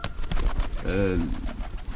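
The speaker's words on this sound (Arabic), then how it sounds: "طيور حلوات حتى فراخهم جميلات جدا" Shami pigeons and their chicks in a loft in Berlin, Germany, give a soft, rolling coo that swells mid-clip over a steady low background, with a voice also present.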